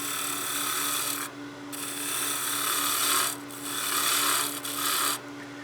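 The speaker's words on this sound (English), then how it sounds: "I'm going to go ahead and use the spindle roughing gouge just because it's a little faster" Spindle roughing gouge cutting a spinning wood blank on a lathe for a Christmas gnome, a loud steady rasping scrape broken by a few brief pauses as the tool lifts away.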